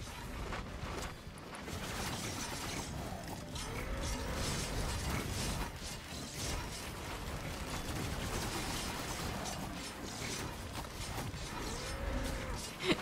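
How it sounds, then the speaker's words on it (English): Cattle mooing in the video game Risk of Rain 2, with repeated low, drawn-out moos and creaking mechanical sounds over a dense, continuous game soundscape. "Y'all better get used to the mooing."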